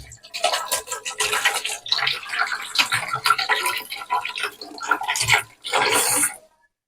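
Coriander leaves get washed in running water, with rushing, splashing bursts that rise and fall in quick pulses before the flow cuts off abruptly at the end.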